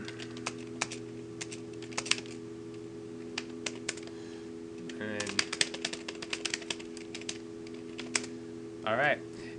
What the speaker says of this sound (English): basically you can type JavaScript right in here.